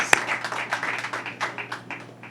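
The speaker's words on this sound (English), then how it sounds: "Give a round of applause." Audience applause at a Caribbean Heritage Month celebration, with scattered individual claps from a modest crowd, fairly close and uneven, opening with one sharp loud clap.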